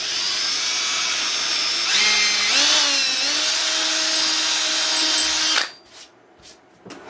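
A power drill whines into wood for several seconds, drilling locating holes for a CNC machine build, its pitch climbing as the bit bites in, then cuts off, leaving faint handling noises.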